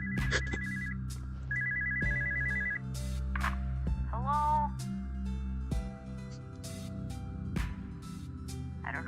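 Video-game telephone ringing in the phone guy room, repeated electronic trilling bursts mixed with tonal beeps, chimes and clicks from the game's soundtrack, moderately loud and continuous.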